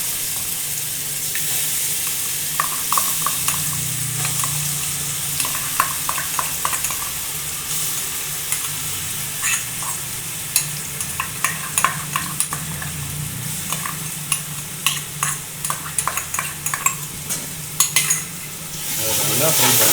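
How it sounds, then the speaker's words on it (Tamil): Ginger garlic paste frying with golden onions for biryani, a steady close sizzle with repeated scraping and clinking stir strokes across the whole stretch, ending in a brief louder hiss. "அதை நல்லா ஃப்ரை பண்ணுங்க."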